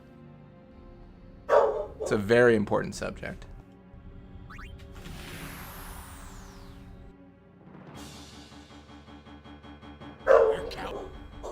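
A pet dog barks and yips a few times, close and fairly loud, mixed with a person talking and electronic game music from Final Fantasy X.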